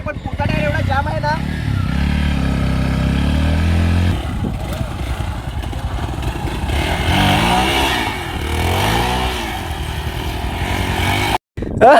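A motorcycle engine runs and revs as the bike sets off on a ride, loud and close with changing pitch, while people talk over it throughout and a brief dropout near the end.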